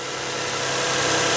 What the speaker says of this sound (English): It's the same exact engine as the Toyota Camry before